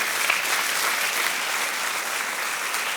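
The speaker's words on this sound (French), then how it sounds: "est-ce qu'on peut applaudir notre Dieu?" Steady, dense applause from a church congregation during a French-language sermon, a continuous wash of many hands clapping at an even level with no pauses across the whole stretch.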